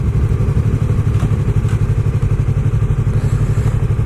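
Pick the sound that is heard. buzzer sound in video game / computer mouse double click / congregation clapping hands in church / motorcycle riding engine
motorcycle riding engine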